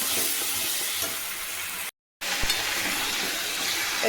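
Mutton sautéing in a pan with fried onion and garlic, giving a steady broadband sizzle with light stirring, interrupted by a brief gap of silence and one soft knock after it.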